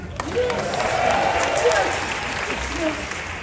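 An outdoor audience at the Disney's Hollywood Studios 35th anniversary ceremony applauds in a steady, moderately loud wash of clapping, with voices faintly mixed in.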